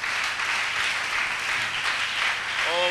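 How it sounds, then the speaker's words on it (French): A church congregation applauds the king, a steady wash of many hands clapping together, fairly loud and sustained, with a voice rising briefly near the end. "Acclamez très fort le roi."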